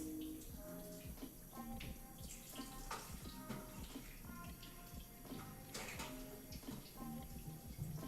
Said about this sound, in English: So let's run these under some cold water